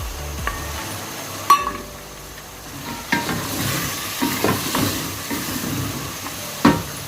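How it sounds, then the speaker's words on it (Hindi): Potatoes and carrots stirred in a frying pan, with a soft sizzle under repeated scraping and clinks of a spoon against the metal pan, close up and without talk. "उसके बाद अब हम इसमें आलू डाल देंगे और अच्छी तरह इसको मिक्स करेंगे।"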